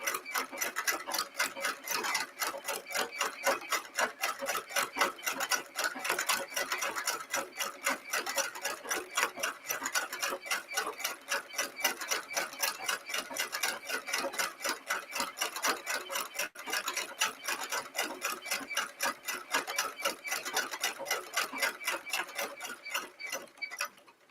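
A sewing machine runs steadily while freeform stitching piping, a fast, even mechanical ticking and clattering that continues without a break at moderate volume and never stops.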